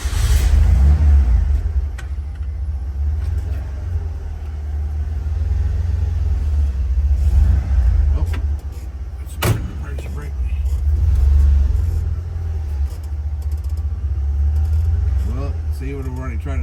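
A drag and drive truck engine idles steadily with a deep, continuous rumble that swells and eases slightly, loud and close, while voices talk over it.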